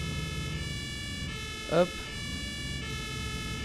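A siren and two-tone horn from an emergency vehicle in a driving video game hold a steady, layered tone throughout, with one short spoken word near the middle.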